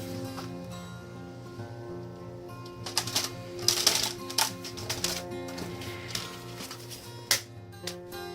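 A paper trimmer cuts sheets of patterned paper to height for a Graphic 45 Garden Goddess mini album, producing a few close, crisp slicing and clacking sounds over a quiet room.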